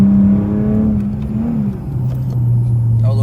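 A car slows through a corner, its engine note a loud, close steady drone that dips and then settles at a lower pitch, heard from inside the vehicle.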